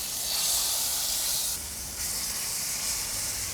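Pork chops sear in a tablespoon of olive oil in a hot skillet, a loud, continuous close-up sizzle and hiss that dips briefly midway and then carries on steadily without talking.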